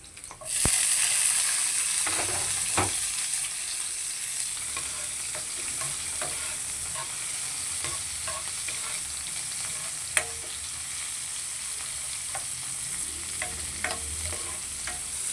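Tomatoes hiss and sizzle in a hot pan while being stirred, a steady bright frying crackle with occasional scrapes and clicks of the utensil, close and continuous.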